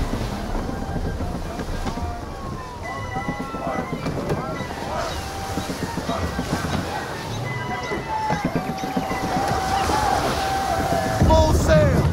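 Wind and open-sea water wash around a sailing ship in Assassin's Creed III, a steady broadband rush with creaks and tonal game cues over it, and voices shouting commands throughout.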